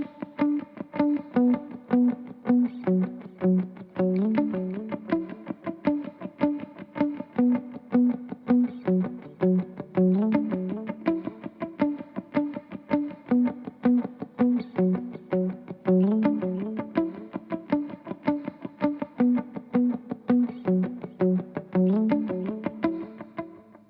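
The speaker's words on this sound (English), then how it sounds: "You'll hear when I palm mute the notes that the reverb kind of sounds like a breath behind the guitar part." Electric guitar playing steady palm-muted staccato notes in a simple repeating worship-song part, drenched in reverb and delay so each chopped note trails a soft echoing wash; loud and close, alone with no talking.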